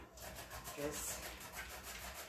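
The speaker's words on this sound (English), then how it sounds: "I'm going to go ahead and get my zucchini ready. And I'm using the veggie stripper for that." Zucchini scraped through a veggie stripper makes a soft, continuous rasping, quiet and close-up, for a couple of seconds without a break.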